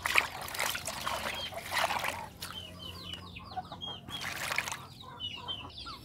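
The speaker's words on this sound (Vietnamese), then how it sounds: "mấy con gà nó dạn lắm cả nhà." Chickens clucking near a farmhouse, several short clucks and calls scattered across the clip over a faint background trickle of water, moderately close and fairly quiet.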